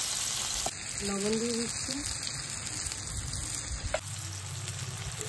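Chopped onion sizzles in fish oil topped up with extra oil for a Bengali fish curry, a bright, constant frying hiss with a brief clatter, while someone speaks briefly over it.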